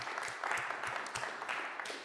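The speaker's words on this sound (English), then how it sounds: "let's take a moment to give her a round of applause" Faint audience applause in a utility industry conference session, a soft wash of many hands clapping heard from some distance and continuing evenly for a couple of seconds.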